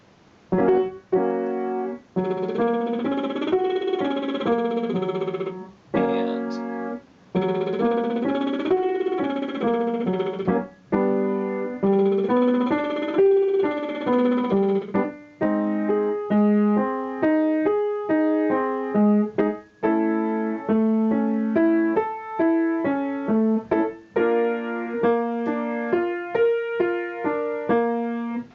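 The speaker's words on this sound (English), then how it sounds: "still on the lip trill, this time an octave arpeggio" A singer does lip trill exercises on octave arpeggios, voicing a buzzing pitched tone that climbs and falls in stepped runs, repeated several times with short breaths between passes, clear and alone.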